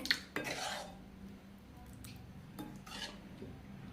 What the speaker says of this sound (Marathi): अशा पद्धतीने आपल्याला ही भाजी मिक्स करून घ्यायची.